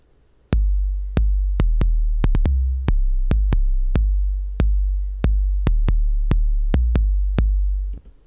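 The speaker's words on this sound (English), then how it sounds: "just that 808 kick track sounds like this" Deep 808 kick drums thump in a sparse, syncopated pattern, each hit a booming low tone that rings and slowly decays, with nothing else playing.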